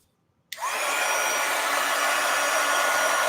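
Craft heat tool switching on with a click and blowing hot air, a steady loud whooshing roar that runs continuously to the end.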